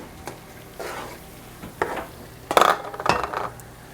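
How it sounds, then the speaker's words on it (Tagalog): Cajun seafood boil being stirred in a pot, intermittent scraping and clinking strokes of a spoon against metal, with a louder cluster of knocks near the end over a quiet background. "Halo-halo lang natin."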